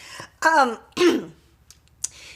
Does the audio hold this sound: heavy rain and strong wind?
no